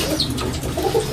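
A domestic Ablook pigeon gives a short, soft, low coo, close by with quiet room background.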